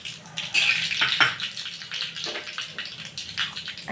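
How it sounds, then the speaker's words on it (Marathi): Cumin and mustard seeds sizzle in hot oil for a guava curry with niger seeds, a steady close crackling hiss with sharp popping bursts throughout. "एक पळी तेल घालून घेऊया, थोडेसे जिरे घालूया, मोहरी घालूया थोडीशी।"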